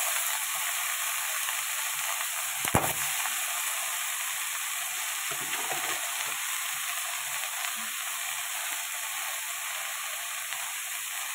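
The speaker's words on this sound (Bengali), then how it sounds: "এবার এই যে শাকটা ঢেলে দেবো।" Greens hit a hot pan with a sharp sizzle that settles into a steady, close frying hiss, broken by a brief clatter near the start and lasting throughout without talk.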